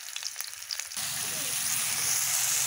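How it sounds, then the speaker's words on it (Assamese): Onions drop into hot oil and start frying at once, a sudden loud hiss that settles into a steady, close sizzle after a brief quiet moment. "এয়া তেল গৰম হ'ল, দেখিবলৈ পাইছেনে? এতিয়া দি দিছোঁ ইয়াত পিঁয়াজ"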